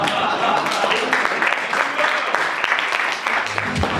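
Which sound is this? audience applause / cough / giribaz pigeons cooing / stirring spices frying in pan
audience applause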